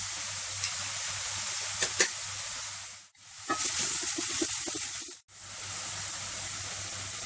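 Crushed onion with ginger-garlic paste sautéing in hot oil, a steady close sizzle and hiss with a few stirring clicks, briefly cut off twice.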